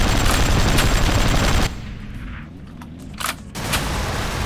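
Rapid gunfire in the vehicle combat game Hard Truck Apocalypse, a dense burst of automatic shots that abruptly stops, then a few scattered pops before the firing resumes loudly.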